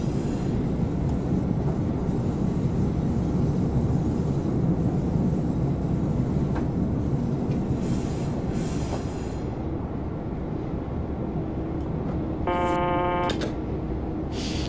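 A BR143 electric locomotive hauls a freight train through the Mosel Valley in Train Simulator 2016. There is a continuous rolling rumble of wheels on rail, with a brief high wheel squeal near the end.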